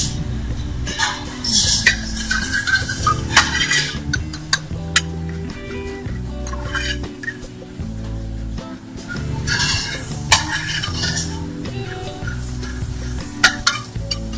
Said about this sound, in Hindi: ये मक्खन लिया है शेफ साहब ने और इसको भी फ्राई पैन में डाला